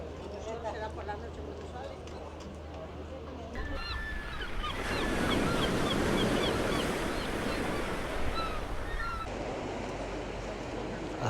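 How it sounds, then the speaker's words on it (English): Surf washing onto Levante Beach in Benidorm, a steady broad wash of waves that swells louder midway, with voices and other beach activity mixed faintly underneath. "this is the primary beach, Levante Beach"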